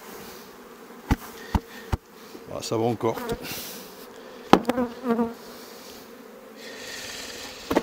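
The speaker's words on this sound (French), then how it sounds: "Les abeilles, il y en a un paquet." Swarm of honeybees buzzing around a hive near a rapeseed field, a steady dense hum throughout, broken by a few sharp clicks and someone speaking briefly over it.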